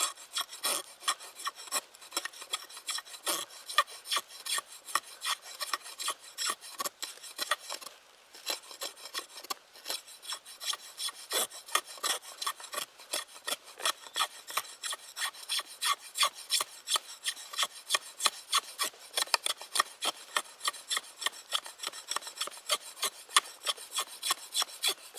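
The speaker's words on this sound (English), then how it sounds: "First thing that we'll try are just some shavings from the inside of the tulip poplar tree." Rhythmic rasping scrapes of shavings being pulled from the inner wood of a tulip poplar tree, a steady run of close, brisk strokes for the whole stretch with no talking.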